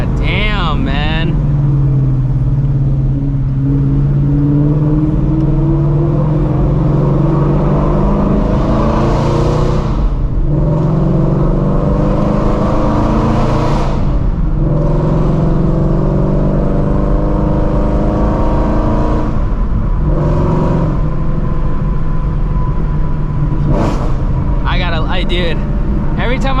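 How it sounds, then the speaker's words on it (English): A car downshifts and accelerates through tunnels, its engine loud and close with repeated rising revs that echo off the tunnel walls, building and easing in several surges throughout. "every time I go to these tunnels, I gotta go ahead and get a downshift in, man. It just sounds too damn good"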